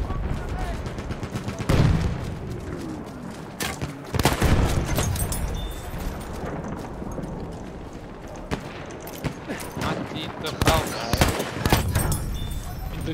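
RSC rifle shots in Battlefield 1, several sharp loud cracks spaced a few seconds apart over constant battlefield noise and distant gunfire, with someone talking between shots.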